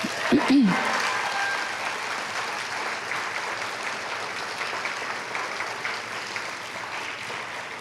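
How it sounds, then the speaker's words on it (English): Graduation audience applauding its speakers, a dense, steady wash of clapping filling the hall from start to finish, with a brief voice at the very beginning. "Let us please give all of our speakers another round of applause."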